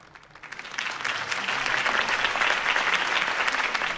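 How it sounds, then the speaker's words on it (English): Crowd applause in the video game Batman: The Telltale Series swells from quiet to a sustained, dense clapping roar from a large audience at a political campaign rally. "If only Mr. Wayne, my campaign's largest backer, could have heard that applause"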